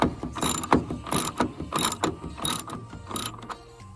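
A ratchet wrench loosens the headlight screws on a 2011-2016 Ford Super Duty truck, with close, rapid clicking bursts in short irregular runs and no talk.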